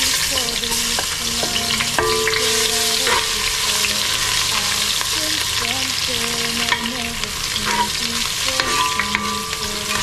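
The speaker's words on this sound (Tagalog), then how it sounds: "Mainit na yung mantika, lagay na natin yung unang-una ang" Ginger hits hot oil to start a sauté for Filipino papaya soup, producing a loud, dense, unbroken sizzle with a low tonal hum and occasional clatters from the pan.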